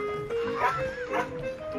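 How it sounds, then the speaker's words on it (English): A couple of short barks from a dog, somewhat distant, over a faint steady tone in the background. "I think my dogs hear the turkeys."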